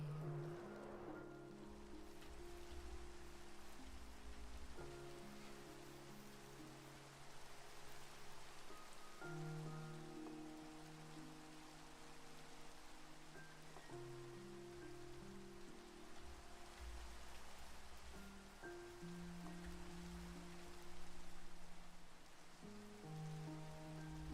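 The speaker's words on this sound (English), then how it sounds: "Rain." Steady rain from the video game Minecraft patters continuously at an even level, with faint background music tones drifting underneath. No talking is heard.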